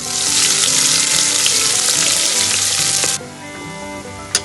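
Cumin, curry leaves and chillies crackle and sizzle loudly in hot oil for a tempering, a dense steady fry that drops sharply near the end, followed by a brief clink.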